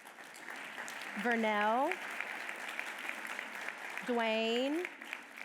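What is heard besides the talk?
audience clapping for standing guests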